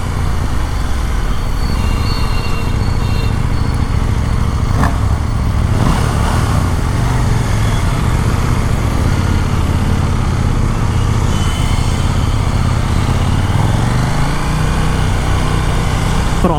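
A KTM Super Duke 1390 R motorcycle engine runs loud and close throughout, with a steady buzzing drone and light throttle rises, heard alone without talk.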